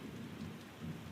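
Steady rain falling on a rainy day in a town, a dense, even hiss of drops with a low rumbling undertone, continuous and unbroken throughout.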